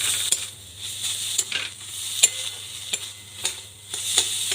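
A spoon stirs vegetables with ginger paste in a pan, scraping and clinking at an irregular pace over a steady sizzle of frying, close by, with no voices. The vegetables are the filling for a vegetable chop.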